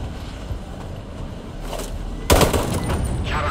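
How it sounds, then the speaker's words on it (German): Mortar fire in the video game Sniper Ghost Warrior 3, with a faint thump early on and then a sudden loud blast that leaves a lingering rumble and scattered crackle. "Mörser werden abgeschossen."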